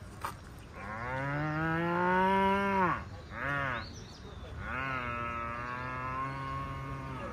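A man imitates a cow's moo to halt a large bull, giving long, loud lowing calls with rich harmonics: one sustained moo, a short break, a brief second call, then another drawn-out moo, close and alone.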